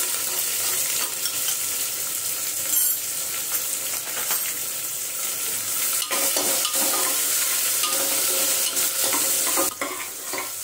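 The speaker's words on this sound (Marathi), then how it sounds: "इथे बघा आपण कांदा चांगला परतून घेतलेला आहे" Sliced onions sautéing in a pan for soya pulav, a loud steady sizzle and crackle with occasional stirring scrapes, and no talk.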